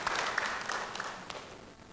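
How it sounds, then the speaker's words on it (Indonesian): Faint, distant applause from an audience at a health talk on eye care for older people, a short soft patter of clapping that fades out. "Kita tepuk tangan."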